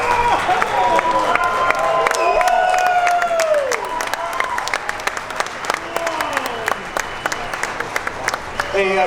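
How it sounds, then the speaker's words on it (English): An audience at a car show breaks into sustained applause and cheering after a 1968 Dodge Supercharger concept is unveiled, loud and dense, with a voice talking over the clapping. "Let's give a round of applause to Joe and his team"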